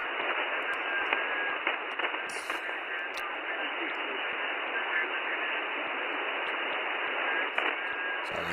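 Another station heard through a mistuned amateur radio transceiver, a steady wash of narrow-band hiss and static with faint, scrambled voice-like traces and occasional clicks, continuous and fairly even in loudness.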